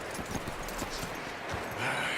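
Several soft hoof clops of a horse in the video game Red Dead Redemption 2 at an uneven walking pace over a faint ambient background, with no talking.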